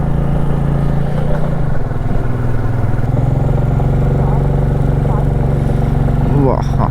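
A rented motorcycle climbs a steep, winding road from Siliguri toward Darjeeling, its engine droning steadily and loudly under load with a constant close hum, while a rider talks over it and some clatter appears near the end.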